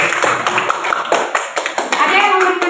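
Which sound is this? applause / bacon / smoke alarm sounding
applause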